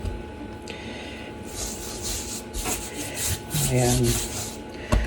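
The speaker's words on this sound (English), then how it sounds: "as I'm rubbing the cure into each one" Dry cure rubbed by hand into pieces of food in a big plastic container, a soft continuous rubbing and scuffing close by, with a few brief knocks and a sharp click near the end.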